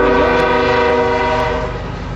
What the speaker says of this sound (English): of course, the train's going by. There ain't nothing I can do about that.